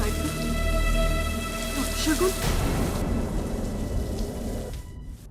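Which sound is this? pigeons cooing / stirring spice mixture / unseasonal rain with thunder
unseasonal rain with thunder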